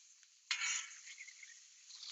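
Butter melting and sizzling in a hot frying pan during breakfast burrito cooking, a sudden hiss bursting up then settling into a steady, close, crackling fry with a few faint clinks, no voices.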